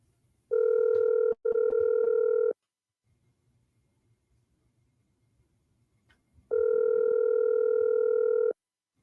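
A radio host phones a caller on a live call-in show: two loud steady dial-type telephone tones, the first briefly broken, then a pause of faint background, then another long tone.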